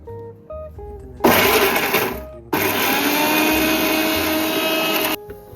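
A mixer grinder churns fish curry masala paste of chillies, tamarind, onion, ginger and garlic in two loud whirring bursts, a short run, a brief pause, then a longer steady grind over quiet background music.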